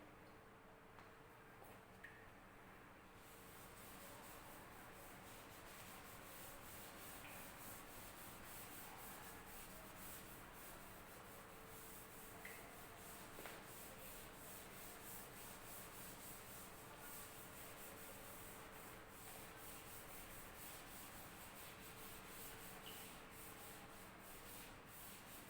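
Writing being rubbed off a board, a steady continuous scrubbing that runs on for about twenty-five seconds at a faint, even level, with no talking.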